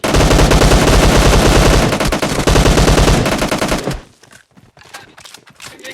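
Rapid automatic fire from a Vector submachine gun in PUBG on the Livik map rattles loudly in a dense burst for about four seconds, then stops, leaving a few faint clicks and sparse shots.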